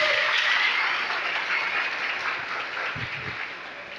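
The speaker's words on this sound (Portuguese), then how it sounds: "Aplaude a palavra de Deus." A church congregation applauds during a sermon, broad steady clapping that swells at the start and slowly fades over a few seconds.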